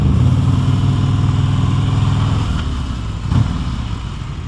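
A 2026 Harley-Davidson Road Glide Limited rumbles steadily on the road, with a deep engine drone and a brief throttle swell near the end. The sound is close, loud and continuous, with no talking.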